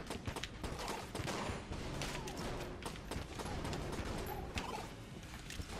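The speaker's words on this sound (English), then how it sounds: "I got hit by 100 bullets" Enter the Gungeon co-op chaos as dense rapid gunfire and bullet impacts patter continuously, a busy crackling barrage of sharp hits layered over game noise with no pause throughout.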